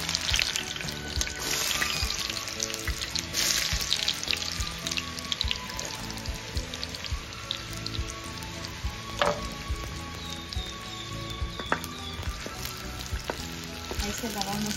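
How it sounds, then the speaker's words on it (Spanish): Chopped onion fries in a pan for refried beans, a steady close sizzle and crackle running throughout with a few faint clinks and stirring sounds. "Ahí se la vamos a dejar que se medio dore la cebollita."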